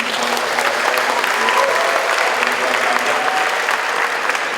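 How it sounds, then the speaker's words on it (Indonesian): Applause from a studio audience at a televised university event, steady and dense from start to finish, a broad continuous wash of many hands clapping with faint crowd murmur beneath. "Boleh minta tepuk tangannya yang mulia?"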